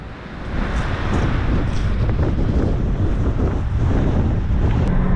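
Strong wind buffets and roars steadily past a semi trailer tarp on a farm hauling corn, a loud continuous rush with heavy low rumble and flapping gusts throughout, no talking.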